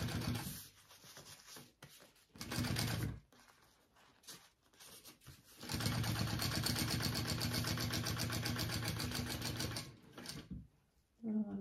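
A sewing machine top-stitching fabric for a garment, running in stop-and-start bursts with a steady rapid mechanical whir during one long stretch, close and fairly loud.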